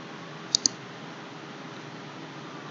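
Two quick, sharp computer mouse clicks in close succession against a quiet room background, followed by a brief bump at the very end.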